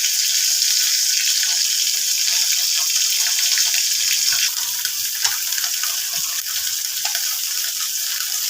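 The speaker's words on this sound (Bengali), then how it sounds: "কড়াতে একটা মাছ ছেড়ে দিয়েছি," A fish frying in oil in an iron wok gives a steady, loud, close sizzle that holds evenly throughout with no break, and no voices are heard.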